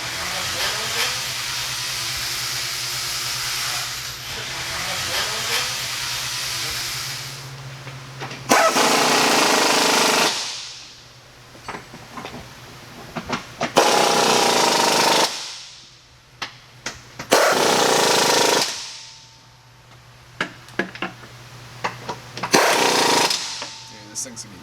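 Supercharged Corvette C6 Z06 V8 fitted with Billy Boat mufflers, firing in loud bursts that rise and cut off repeatedly between quieter idling stretches, with a steady low hum underneath.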